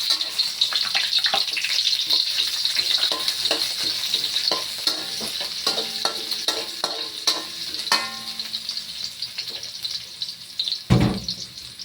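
Onion sizzles and fries steadily in a hot pan, added after garlic, with repeated stirring scrapes and clicks of a utensil throughout and a louder clatter near the end.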